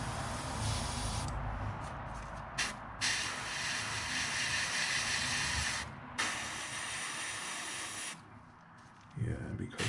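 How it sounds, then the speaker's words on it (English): An airbrush hisses in steady bursts while spraying thin brown paint onto the tail of a small crawfish fishing bait, the close airy spray stopping briefly between passes. "I'm gonna spray the tail with the brown so that it's transparent"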